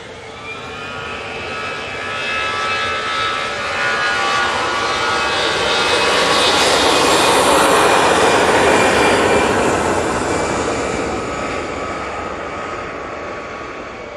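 Airbus A380 jet engines spooling up at Manchester Airport: a loud, broad roar that swells over several seconds, peaks midway with a whining tone, then eases slightly, with no voices.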